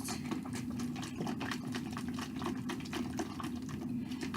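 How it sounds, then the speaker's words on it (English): A container of powder mixed with water for squishy slime, shaken steadily so the contents slosh and rattle in a continuous, close, fairly loud churn with no pauses. "Just gotta keep on shaking it until it is well mixed."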